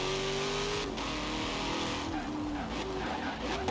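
A Chevrolet Corvette C8 engine in Forza Horizon 4 revs and shifts through gears, steady and loud throughout, with a brief tire skid partway through.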